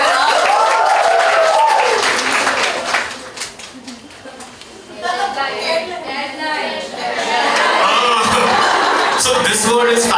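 A student audience at a campus event with a celebrity guest applauds and cheers, loud and sustained, dipping briefly mid-way under talk before the clapping and whoops swell again.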